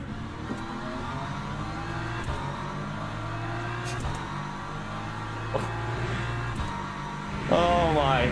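Race car engines in the Le Mans Ultimate sim racing game, including an LMP3 prototype, drone steadily at close range with gear changes and a sharp revving rise near the end, while a commentator talks over the top.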